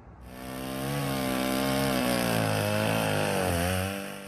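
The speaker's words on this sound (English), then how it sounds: "The revving of my mom's chainsaw was the soundtrack to my childhood." A chainsaw revs loud and close, its engine holding a steady high-pitched drone with slight pitch swells for several seconds, with no voices over it.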